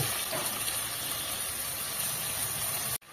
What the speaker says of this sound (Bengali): বাটিটা ধুয়ে একটু জল দিয়ে দিচ্ছি।